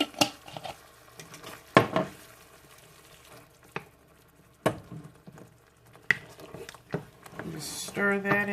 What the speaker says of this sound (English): I saved some of the pasta water to swish around in here to get the rest of the sauce out